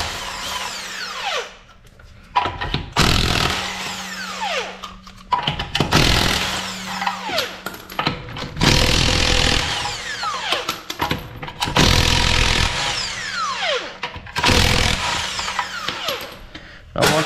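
An air impact wrench rattles through lug nuts on a car during a home tire rotation, several loud hammering bursts a few seconds each with short pauses between, close by and with no talking.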